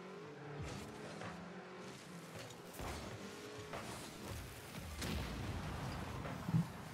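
Rocket League match with cars boosting and driving, engine whines and skidding tires, sharp impact bursts from a car demolition, busy game sound mixed throughout with no voices.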